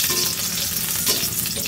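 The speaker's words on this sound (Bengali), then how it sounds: "প্রথমে মরিচ আর রসুন ভেজে নিচ্ছি তেলে।" Chili and garlic frying in hot oil give off a loud, continuous crackling sizzle with bright spattering hiss and small bursts of popping, close up and without any voices.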